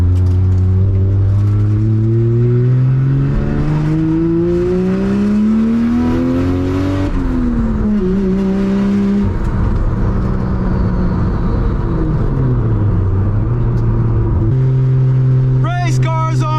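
A Toyota JZX81 with a 1JZ engine on a street test drive revs up through the gears, its engine note climbing, dropping at shifts and rising again, loud and close inside the car, with a voice briefly talking over it.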